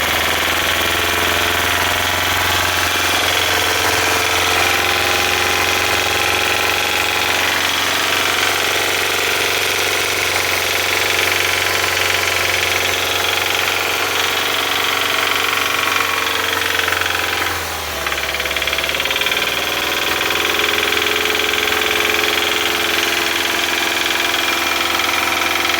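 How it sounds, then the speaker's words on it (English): A used 2012 Subaru Forester engine runs with an obvious knock, a loud continuous mechanical rattle and tapping over the steady engine drone, holding even throughout with a brief dip near the end. "It's a pretty obvious engine knock."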